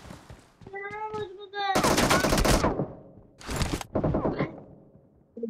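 Loud, close gunfire bursts in the battle-royale game PUBG, two sharp automatic volleys separated by quieter gaps, with brief voiced game callouts before and after.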